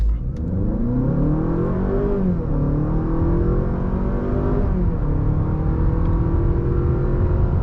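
A 2023 Honda Accord Sport accelerating at full throttle in eco mode, engine note climbing steadily with audible shift dips, heard loud from inside the cabin.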